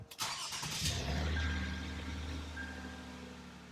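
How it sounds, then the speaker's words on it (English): A Lexus RX350 engine cranks and catches, a brief starter whir giving way to a steady low idle, close by and fairly quiet. "We'll go ahead and turn it on, start the car."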